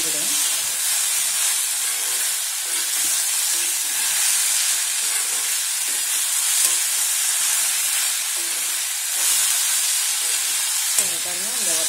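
Okra, or ladies' finger, sautéing in a pan for a simple poriyal, giving a steady close sizzle and hiss throughout with faint stirring scrapes, and a brief voice near the end.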